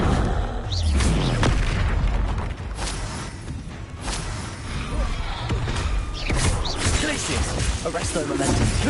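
A Confringo spell in Hogwarts Legacy goes off amid a busy battle soundscape, with repeated heavy booms, whooshes and crashing impacts over a continuous loud rumble.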